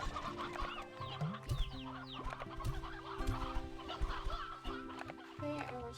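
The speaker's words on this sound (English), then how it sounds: "Okay, let's grab these chickens." Chickens cluck in the video game Slime Rancher 2, a busy layered chorus of short clucks and bwaks over a steady tonal game music bed, no voices between.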